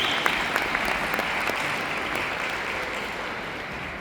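An audience at a training seminar in Budapest breaks into sustained applause, a dense steady patter of many hands clapping close and even from start to finish, with no voices over it.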